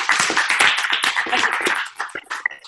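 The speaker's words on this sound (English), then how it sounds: "Big round of applause" A round of applause from a workshop group at an on-camera training session, brisk, close clapping that thins out toward the end into a few scattered claps.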